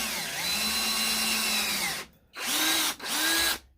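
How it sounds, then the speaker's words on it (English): A power drill drives a screw into the wood of a Langstroth 10-frame beehive assembly jig, a loud whining motor run of about two seconds followed by two shorter bursts, close and alone. "Basically just going to drill this"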